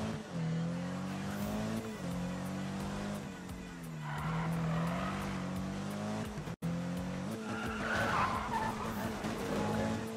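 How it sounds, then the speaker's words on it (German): A car in the Need for Speed video game drifts with the handbrake, its engine droning and shifting pitch while tires squeal in long, loud swells over about ten seconds. "Driften mit der Handkraft kann ich nicht so richtig."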